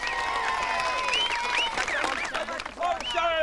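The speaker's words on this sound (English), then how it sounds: "Big round of applause for Daniel." A studio audience applauds for a performer on a variety show, the clapping steady throughout while a whistling, warbling melodic tone plays over it.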